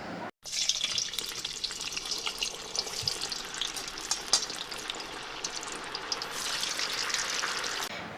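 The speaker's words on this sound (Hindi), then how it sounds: "इस तरह से करके हमें फ्राई करने हैं गोल्डन ब्राउन" Chicken potato donuts deep fry in hot oil, a continuous bubbling sizzle with crackles and splashes that starts abruptly and holds steady close by.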